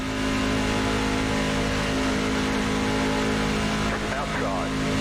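Steady racing truck engine drone on the front straightaway at Daytona in the iRacing sim, a sustained high-revving tone under ongoing speech, with the pitch wavering briefly near the end.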